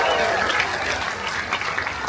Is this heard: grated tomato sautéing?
no